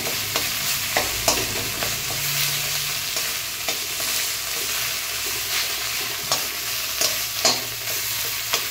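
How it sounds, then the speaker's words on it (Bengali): Gandhal (gandhali) leaves stir-fried in a pan for a vegetarian dish: continuous close sizzling broken by repeated sharp spatula scrapes and taps at an uneven rhythm, no voices. "এটা ভালো করে কষে নিতে হবে গাঁদালি পাতাটা।"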